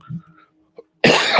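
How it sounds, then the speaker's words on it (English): A man coughs into the microphone: a loud, harsh burst near the end, close and alone, after a quiet breathy lead-in with a faint throat sound. "Y'all forgive my cough."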